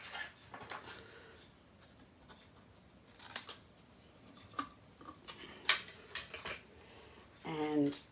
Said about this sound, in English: And I'll just cut a piece off here.